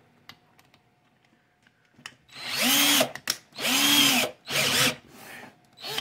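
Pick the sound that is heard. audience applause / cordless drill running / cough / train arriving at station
cordless drill running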